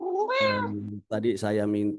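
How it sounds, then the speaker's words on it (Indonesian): A house cat meows twice in a drawn-out, wavering way during an online meeting, with a person speaking over and between the calls. "itu suara kucing kami itu"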